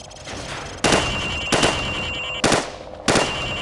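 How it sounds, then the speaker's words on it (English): Four sharp, loud rifle shots fired from the hip at targets on a Call of Duty 4 training range, spaced about a second apart, each with a crisp crack and short ringing tail. "Now shoot at the targets while firing from the hip."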